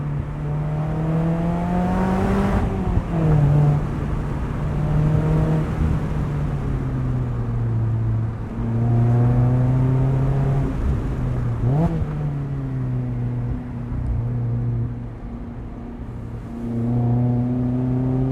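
A 2018 Mazda MX-5 Miata running on E85, driven hard through a canyon and heard from inside the cabin, with its engine droning loudly and revving up and down through gear changes.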